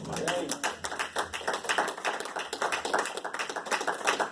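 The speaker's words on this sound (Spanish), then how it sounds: "Denle un aplauso al Señor." Church congregation clapping in steady, dense applause that fills the room for several seconds, with voices mixed in underneath.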